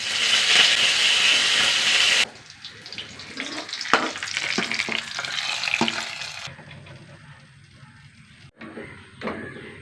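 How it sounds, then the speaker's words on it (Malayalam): A tempering of mustard seeds, crushed garlic, dried red chillies and curry leaves hits hot oil for a white cowpea curry, giving a loud burst of sizzle and crackle that drops to softer spitting and stirring. "ഇനി താളിച്ചെടുക്കാം. കുറച്ചെണ്ണ, കടുക്, വെളുത്തുള്ളി ചതച്ചത്, വറ്റൽമുളക്,"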